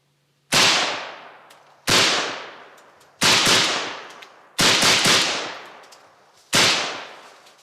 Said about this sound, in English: How's it feel to shoot an AK-47?